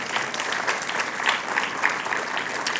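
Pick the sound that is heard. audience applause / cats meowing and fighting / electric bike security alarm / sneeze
audience applause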